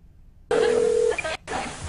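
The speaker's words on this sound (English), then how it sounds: "Using your touchtone keypad, please enter the first 3 letters of the movie title now." Touch-tone telephone keypad, one steady beep-like DTMF tone followed by a short gap and a second burst, loud and close, with a recorded-message feel.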